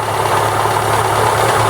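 A 1.4-litre MeMZ 317 engine in a Daewoo Lanos runs on petrol with a steady, slightly uneven idling drone, close and loud.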